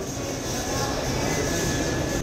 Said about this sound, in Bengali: তো ট্রেন ছেড়ে দিয়েছে একদম টাইমে